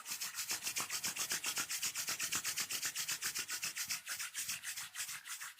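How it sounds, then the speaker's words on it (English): Hands rubbed briskly together during a guided meditation, a steady rhythmic swishing of about three to four strokes per second, close and soft, with no voice over it. "Now, rub your hands."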